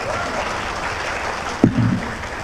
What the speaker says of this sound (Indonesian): Kasih tepuk tangan untuk Ketua Pimpinan DPP